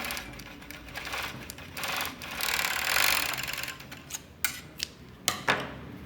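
A sewing machine stitches three small glued fabric pieces together for a seamless panty, its mechanical whirring rising and falling in bursts through the middle, then ending in a few sharp clicks and taps, heard alone without talk.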